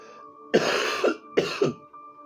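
Two harsh, close coughs in quick succession from a man with a cold, each a burst with a rasping tail, heard alone over a faint background hum.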